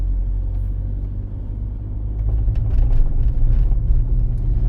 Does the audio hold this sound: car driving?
yes